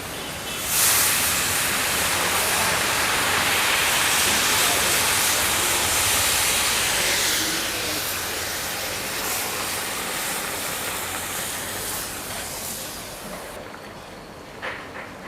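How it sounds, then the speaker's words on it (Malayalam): Water is poured into a hot pan of turmeric-coated pork, raising a loud, close hiss of steam that begins almost at once and slowly eases off toward the end. "കുറച്ച് വെള്ളം ഒഴിച്ചു കൊടുക്കാം"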